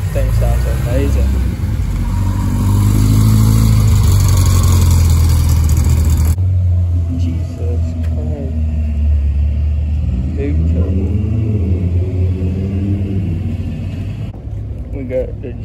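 An Audi RS5 at a European cars and coffee meet gives a low engine rumble and throaty revving, heard under a person talking nearby throughout.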